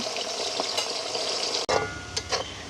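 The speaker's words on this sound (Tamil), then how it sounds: "பாருங்க இப்படி இருக்காண்டு இப்படி சலன்னு பொரிய வேணும்" Mixed vegetables frying in hot oil during a village-style cooking session, a loud, dense close sizzle with a sudden brief dip and a few sharper spattering bursts toward the end.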